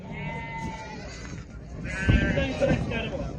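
Male lambs bleat a few times at a livestock market over a steady voice and background chatter, with livestock calls rising louder toward the end.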